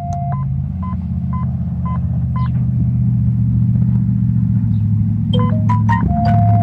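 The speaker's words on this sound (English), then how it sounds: "you'll hear his phone go off" A phone alert sounds as a reading is saved during a pipeline current attenuation survey: short stepped electronic beep sequences at the start and again near the end, over a steady loud engine rumble.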